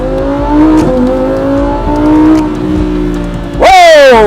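A Lamborghini Huracán EVO RWD on a road in Mumbai climbs steadily through its revs with a gear change partway, then lets out a sudden loud, high-pitched surge of hard acceleration at the end.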